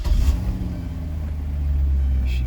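A 2009 Chevrolet Corvette coupe engine cranks and fires, settling into a deep, steady, loud idle rumble that swells slightly toward the end, with no talking.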